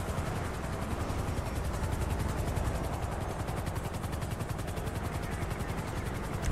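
Helicopter hovering overhead in GTA 5 during a police arrest, a steady continuous rotor drone with a low rumble and fast chopping pulses, moderately loud and constant throughout, with no talk.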